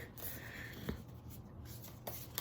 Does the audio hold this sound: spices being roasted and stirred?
no